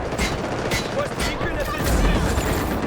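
Gunfire rattles in the Delta Force video game, bursts of shots and explosions in a busy battle mix, with a player talking over it.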